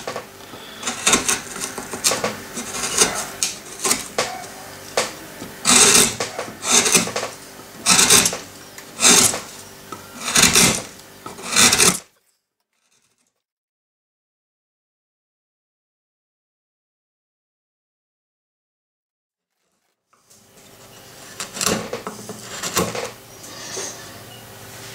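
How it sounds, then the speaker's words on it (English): A carving gouge cuts into wood while roughing out a carved flower, giving a series of close, scraping, rasping strokes in uneven bursts, then several seconds of silence before more cuts resume. "what we have to do now is to take another gouge, maybe a"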